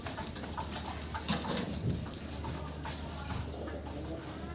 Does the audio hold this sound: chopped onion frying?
no